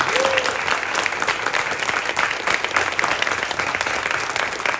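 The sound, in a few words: audience applause for Peter Milligan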